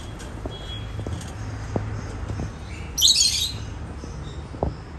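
Parrots in a breeding aviary, including sun conures and opaline birds, give a loud burst of squawking around the middle, with scattered chirps and clicks over a steady low hum.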